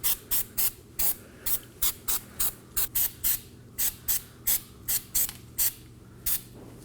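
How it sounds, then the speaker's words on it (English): Repeated short hissing bursts of aerosol anti-seize spray onto a brake hub, about two per second in a steady rhythm, close to the microphone. "I'm gonna be spraying some never sees onto the hub"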